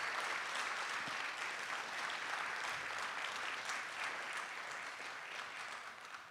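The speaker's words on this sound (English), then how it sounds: "So a round of applause for Eva Marie and Helen on organizing." Sustained, even applause from an event audience thanking the organizers at a day-two wrap-up, a steady wash of many hands clapping with no voices over it.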